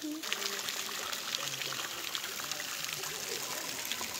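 Cold water pouring onto a hiker like a shower at a cave in Hocking Hills State Park, Ohio, a steady hissing splash running the whole time, with faint voices now and then.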